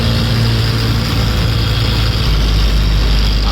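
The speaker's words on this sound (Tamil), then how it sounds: "நம்ம வண்டி மேட்ரு பிரிட்ஜு மேலே ஏறு திணறுது" A vehicle engine labouring as it climbs a bridge near a temple, a loud, steady low drone with a deepening rumble near the end, close and continuous with no talk.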